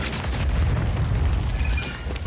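A missile blast in Call of Duty multiplayer, a loud, sustained low rumbling boom that fills the moment with no talk over it.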